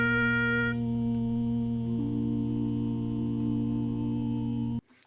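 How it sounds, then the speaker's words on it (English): A pitch pipe sounds a brief reedy tuning note, then a barbershop quartet sings and holds a close sustained chord, with one part shifting partway through, before the singing cuts off abruptly near the end. "I also included the tuning note, the pitch pipe,"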